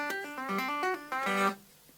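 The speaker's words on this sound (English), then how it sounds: "You play a little open string tapping lick" Quick open-string tapping lick on guitar, a rapid run of bright, clean notes in a bouncy rhythm for about a second and a half before stopping, played alone without talking.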